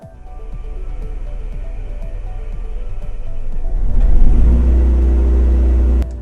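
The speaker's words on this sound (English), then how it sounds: "simply hold down the start button until the generator starts" An RV generator in a Class C motorhome cranks and starts, settling into a loud, steady low engine rumble that builds and evens out nearby before a sudden click.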